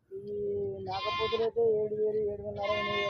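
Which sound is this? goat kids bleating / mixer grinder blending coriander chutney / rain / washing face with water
goat kids bleating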